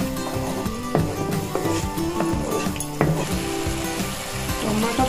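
Tomato puree sizzling and frying in a pan while making homemade red chilli sauce, a steady crackling hiss with occasional sharp pops and spoon clinks.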